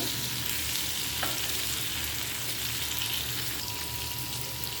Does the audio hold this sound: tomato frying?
yes